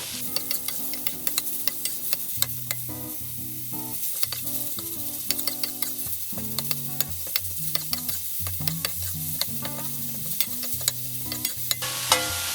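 Minced pork trotter meat is pressed and stir-fried in a wok, giving a steady run of scraping clicks and light sizzling over about twelve seconds, with a soft tune playing underneath.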